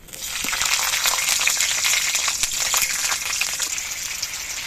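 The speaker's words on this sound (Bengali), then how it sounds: "এবার এর মধ্যে কয়েকটি চেরা কাঁচা লঙ্কা দিয়ে দিচ্ছি।" Slit green chillies dropped into hot mustard oil in a kadai give a loud, steady hissing sizzle that rises quickly and holds for several seconds, with no voices.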